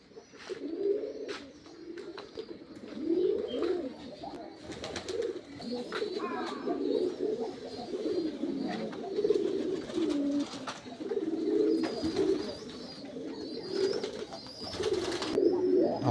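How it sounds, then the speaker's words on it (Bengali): Running pigeons in a rooftop pigeon loft, many birds cooing in overlapping, rhythmic low warbles throughout, with wing flaps and scattered clatter, close by and continuous. "আমার এখানে কবুতর আছে রানিং কবুতর 85 জোড়া 86 জোড়ার মতো"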